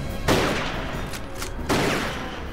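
Gunfire in a scene from the TV show Supernatural, two sharp bursts of shots cracking out over a noisy background, moderately loud and heard alone without talk.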